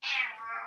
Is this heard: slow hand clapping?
no